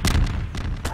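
Fireworks exploding inside the Garry's Mod video game, a cluster of sharp booming bursts with a loud burst at the start, another near the middle and a third at the end, close and heavy with no talk.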